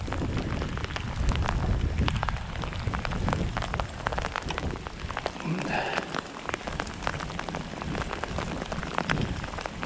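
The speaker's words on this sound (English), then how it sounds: "Hail and sleet and rain and everything." Dense pattering of rain, sleet and hail striking nearby surfaces beside a canal, steady throughout with sharper hail ticks and occasional louder impacts.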